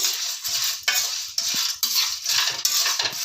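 Whole spices for biryani masala are dry-roasted in a pan and stirred, producing a quick run of rough scraping strokes and light rattles, close and fairly loud, with only a trace of sizzle.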